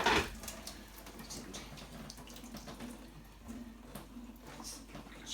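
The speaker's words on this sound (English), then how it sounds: "we're going to put it through the colander into the sink. Kettle of boiling water, we're just going to wash off some of the starch." Boiling water from a kettle pours through a colander into a sink to rinse starch from food, a steady close splashing rush of water that runs throughout, fairly soft, without speech.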